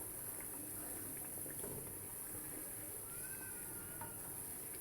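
Mashed olives going into spice paste frying in a pan for sour-spicy olive pickle, a steady soft sizzle and bubbling hiss throughout, close and fairly quiet with faint scattered clicks.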